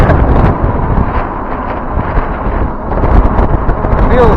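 Strong wind buffets the microphone while riding an eBike in hot weather, a loud continuous rushing roar with gusty surges throughout.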